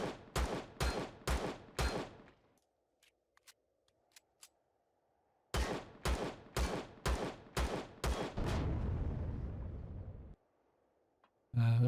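Rapid bursts of pistol fire in the sci-fi survival game Empyrion Galactic Survival, two volleys of sharp, evenly spaced shots with a quiet gap between them and a rumbling tail after the second burst.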